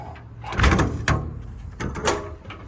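Metal drawers in the service body of a 2019 Ford F-550 4x4 crew cab truck slide and clunk, several close, loud bumps and rattles in quick succession.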